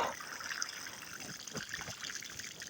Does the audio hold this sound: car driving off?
no